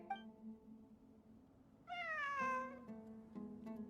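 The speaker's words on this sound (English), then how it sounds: "It really is a cat." A cat meows in a game setting, a faint low call early, then a louder rising-falling meow and a few shorter mews, heard alone over quiet background.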